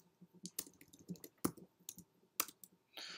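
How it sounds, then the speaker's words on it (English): Someone types on a computer keyboard while writing Python Selenium code, giving an irregular burst of light close clicks and a few sharper key strikes over about three seconds. "So we have to type from, then we have to type Selenium"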